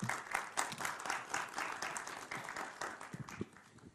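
Clapping from the audience in a TV debate studio: a dense, continuous burst of many hands that stays fairly faint and thins out slightly toward the end.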